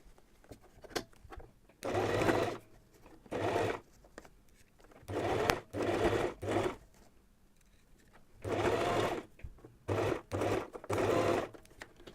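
A home sewing machine stitches fabric for a beginner's fabric tray, running in several loud bursts with short pauses between them as backstitches reverse and lock the seam. No one speaks.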